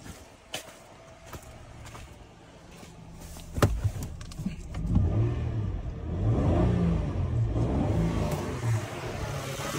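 A Kia Sedona 3.5 engine idles under the hood and then revs, the engine note building and holding steady through the second half, with no talking.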